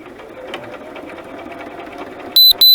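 Sewing machine running steadily at close range with a dense, continuous mechanical whir, ending in two short loud beeps, while crafting a junk journal.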